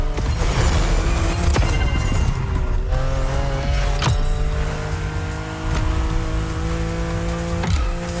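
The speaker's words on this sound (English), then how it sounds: "Drifting is the best way to take sharp turns without losing speed." A car drifts through sharp turns on winding mountain roads in the video game The Crew Motorfest, with a loud engine and repeated tire squeals and skids over about eight seconds, with no talking.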